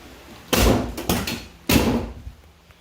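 A Ford Mustang Foxbody car door is shut hard twice, each a loud thud with a metallic rattle, plus a lighter knock between them.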